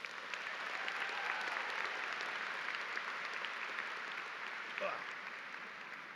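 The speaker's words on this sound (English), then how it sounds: "Let's give them both another round of applause" Sustained applause from a distant audience at a high school graduation fills the hall at a steady level, with a voice talking over the clapping partway through.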